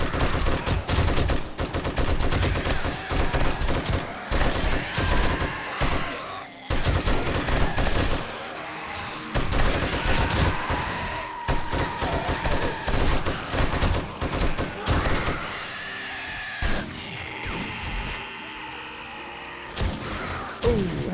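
Video game gunfire unloads on enemies in sustained automatic bursts, dense rattling volleys with brief pauses and a few louder booms, loud and close for the whole stretch.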